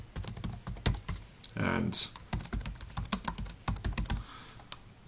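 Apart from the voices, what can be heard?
typing on a computer keyboard to send a text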